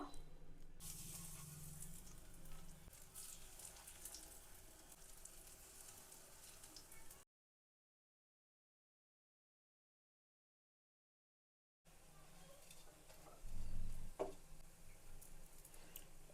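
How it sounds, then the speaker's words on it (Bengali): Spinach pakoras frying in hot oil give a soft, steady sizzle and crackle. The sound cuts out to silence midway, then returns with a few louder pops. "বাদ বাকিগুলো এভাবে ভেজে নেব"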